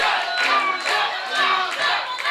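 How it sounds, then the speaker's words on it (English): Pro wrestling crowd at an indoor show chanting in a loud, rhythmic unison cadence, repeated pulses of voices swelling and falling for a wrestler during a submission hold. "And you hear the crowd chanting for Moonshot as he reaches to the ropes."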